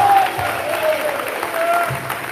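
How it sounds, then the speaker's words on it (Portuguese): A church congregation applauds during a Portuguese-language worship service, steady clapping filling the room with faint voices mixed in. "E as palmas vão sobre Ele."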